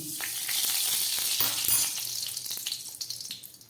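A spoonful of ghee hits a hot kadai and sizzles, a bright close frying hiss with small crackles and pops that gradually settles, no voices.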